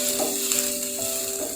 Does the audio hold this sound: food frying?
yes